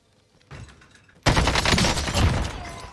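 AK rifle fire in a video game bursts out in a rapid, loud fusillade of shots after a quieter lead-in, continuing densely to the end.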